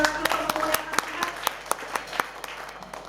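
A church congregation at a worship service claps in a steady, rhythmic beat, about three claps per second and fairly close, with voices faintly mixed in.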